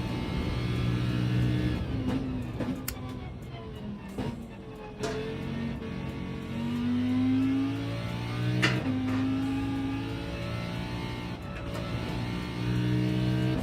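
Car engine in the Gran Turismo racing game, driven by the AI to warm the tyres: a steady rumbling drone with rising and falling revs and gear-shift pitch sweeps, at constant loudness throughout.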